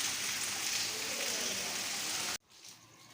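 Steady, dense rain hisses loudly for a couple of seconds, then cuts off abruptly, leaving only faint background sound.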